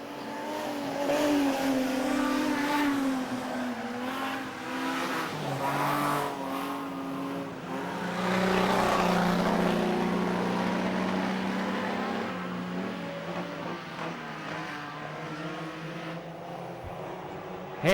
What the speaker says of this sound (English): the other car out there is Jason Reeves.